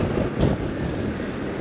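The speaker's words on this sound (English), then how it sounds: "It's quite a windy day today." Gusty wind buffets the microphone beside a Yamaha XMax 125 scooter, producing a continuous low rumbling roar with no other clear sounds.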